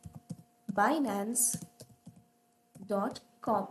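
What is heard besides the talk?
typing a web address on a computer keyboard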